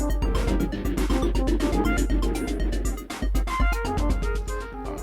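Busy, dense synth music from the Chordado instrument in the Endlesss app, with layered chords and rapid rhythmic hits, loud and full throughout, with a brief dip near the middle.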